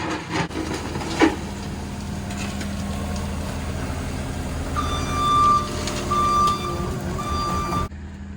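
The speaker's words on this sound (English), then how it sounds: "now we can get this big area with the skid steer" Reversing beeps from a skid steer sound in a steady repeating pattern over an idling diesel engine rumble, with the clatter of the work site around it.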